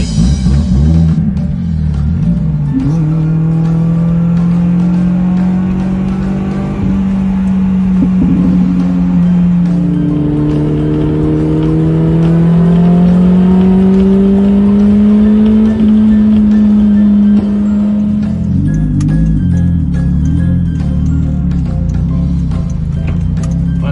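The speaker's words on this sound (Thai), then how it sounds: "ไปลุย เบิ้ลเครื่องหน่อยเรียกขวัญกำลังใจ" A Lotus Elise S3 engine revving up with a loud, close drone that rises and falls in pitch, a long held rev before a sharp drop near the end.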